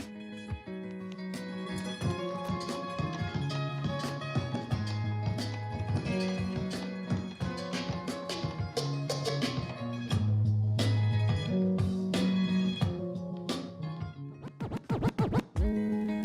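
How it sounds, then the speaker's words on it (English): Turntable scratches chop and whip over a looping musical backing of samples, with quick rhythmic cuts and a few sharp bursts near the end. "This right here is just a track of samples and like scratch sound effects"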